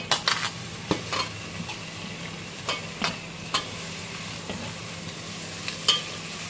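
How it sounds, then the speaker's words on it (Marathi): Tomatoes tipped onto cooked onions sauté in a pan, giving a low steady sizzle with several sharp scraping clinks of a spoon stirring against the metal, close and without talk. "टमॅटो टाकले, परतून घेते आता टमॅटो."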